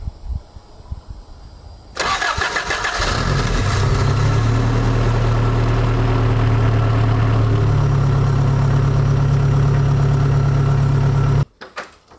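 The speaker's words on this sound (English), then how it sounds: "let's see what Yeti thinks of his new fuel pump" An old truck with a new fuel pump cranks and catches, then runs at a steady loud idle for several seconds before cutting off abruptly, alone with no talk.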